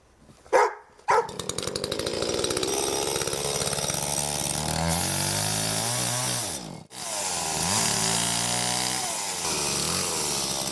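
Chainsaw cutting wood up close, loud and continuous: a couple of short revs, then a long sustained whining cut with pitch shifting under load, a brief drop, and the saw roaring on again.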